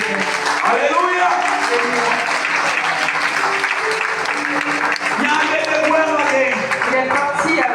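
A church congregation applauds during a worship service, sustained clapping filling the space while voices call out and sing over it.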